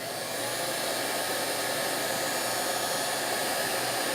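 A heat gun blows steadily, shrinking covering on a twin-engine model airplane build: a constant loud, close whooshing roar that holds unchanged throughout with no voices.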